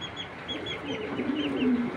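Caged pigeons give soft, low cooing calls that build slightly toward the end, with faint higher chirps and little else in the background.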